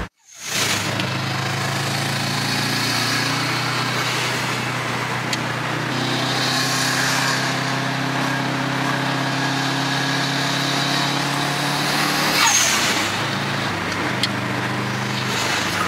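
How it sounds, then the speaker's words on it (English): A Subaru fitted with a manual transmission runs steadily with a droning engine note throughout, briefly shifting pitch near the end, loud and close with no talk over it. "This man put a fucking manual transmission in this, and it sounds nasty."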